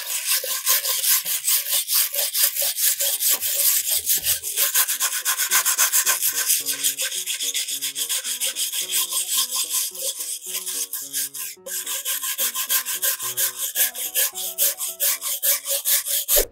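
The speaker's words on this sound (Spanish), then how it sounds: "Ahorita voy a cepillar el palo." A hand plane shaving a wooden stick, quick rhythmic rasping strokes repeating steadily and close up for the whole stretch, with no talk.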